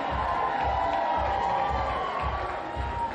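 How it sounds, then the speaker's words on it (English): A crowd cheers and applauds as Cantrell is projected the next mayor of New Orleans. The dense roar of clapping and whoops runs continuously through the whole stretch, loud and close, with no clear single voice standing out. "we're hearing applause."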